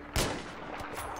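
A single sharp gunshot rings out in the video game Battlefield 3, a loud close crack with a short decaying tail and a fainter follow-up report.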